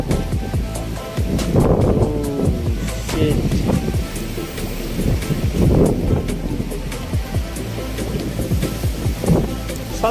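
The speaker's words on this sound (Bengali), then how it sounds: "প্রচুর পরিমাণ বাতাস এবং ঢেউ হচ্ছে।" Strong wind roars and waves churn on the Padma river during a storm, under the pillars of the Lalon Shah bridge. A steady, loud gusting wash with surges, and voices can be heard through it.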